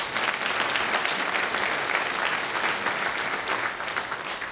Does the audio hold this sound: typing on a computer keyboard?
no